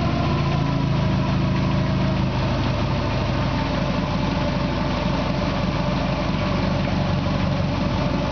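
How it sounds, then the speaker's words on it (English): A Subaru engine runs on a test stand, freshly rebuilt with new seals and head gaskets, idling at about 700 RPM with a loud, steady, even rumble that continues unbroken throughout, with no talking. "Idling at 700 RPMs."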